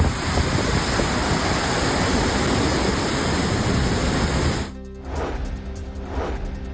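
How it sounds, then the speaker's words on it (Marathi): Ghanikhut waterfall on the swollen Karjan river at Netrang, Gujarat, a loud continuous roar of rushing floodwater that suddenly drops in level near the end, leaving a softer churning rush. "गुजरातच्या नेत्रंगमधील घणीखूट धबधब्याजवळ करजन नदीचं रौद्र रूप।"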